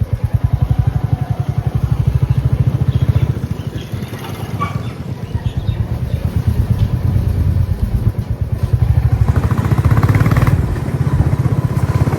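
A motorcycle ride on a rural road, the engine running steadily loud and close throughout with rhythmic pulsing and wind rumble.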